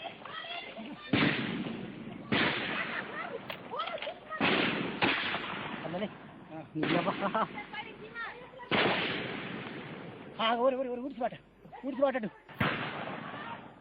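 Gunfire and explosions ring out in a jungle battle during a Naxal attack in Chhattisgarh, with repeated loud bursts and blasts at an irregular rhythm, close and heavy, mixed with voices.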